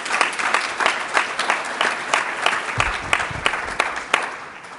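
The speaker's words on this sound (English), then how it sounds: "Give her a round of applause." Audience applause at a Congressional Black Caucus forum: dense, steady clapping from a sizable crowd with a few louder individual claps standing out, sustained for the full stretch and close.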